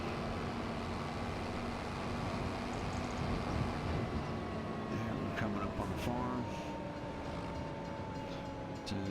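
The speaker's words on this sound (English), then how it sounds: "Oh, we got a train going by." A train passing by at a level crossing, a continuous rumbling roll with tonal squeal and clatter throughout, fairly loud and close, with someone talking over it.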